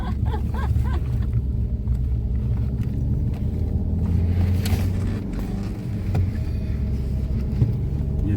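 A car driving along a good mountain road in Spiti, its engine a steady, continuous low rumble close by, with no talking.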